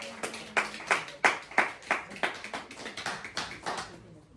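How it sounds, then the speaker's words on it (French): A church congregation claps in a steady, rhythmic beat, a dozen or so crisp hand strikes at moderate distance, gradually softening toward the end. "Applaudissez-moi, Père Jésus"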